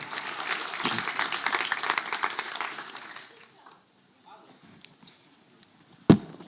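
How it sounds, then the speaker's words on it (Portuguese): A conference audience at a PHP internals talk applauds speaker Gabriel Caruso with a few seconds of moderate clapping that fades out, followed by quiet room noise, a couple of small knocks and a sharp microphone thump. "salva de palmas de novo para Gabriel Caruso"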